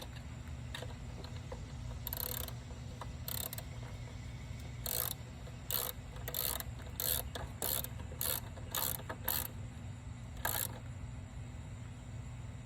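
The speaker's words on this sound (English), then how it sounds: "You're going to switch your ratchet so that it starts tightening and tightening it." A ratchet tightening a throttle body screw gives a series of short, crisp clicking bursts at an uneven pace over a low steady hum, close and moderately loud.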